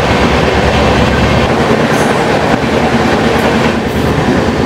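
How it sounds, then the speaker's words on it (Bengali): A local suburban train rushes past at close range near Bally station on the chord line, a loud steady rumble with rhythmic wheel clatter over the rails and faint metallic squeals. "কি গেল লোকাল ট্রেনটা"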